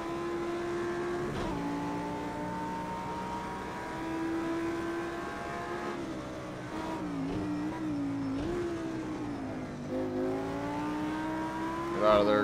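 Audi R8 road car engine lapping Bathurst in Project Cars 2, a loud, sustained engine tone that climbs steadily through the gears, dropping sharply at each shift before building again and swelling near the end.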